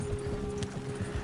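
Horse hooves clip-clop at a steady walking rhythm in a Western-themed video game, close and even over a low background hum.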